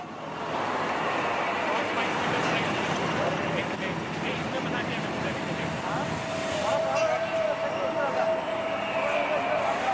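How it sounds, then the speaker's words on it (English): Sarang display helicopters in a high-speed head-on crossing at an air show over Marina Beach, Tamil Nadu, produce a steady, loud, broad rotor and engine roar that holds for the whole stretch, swelling slightly near the end. "The helicopters will cross head-on and perform synchronized stall turn."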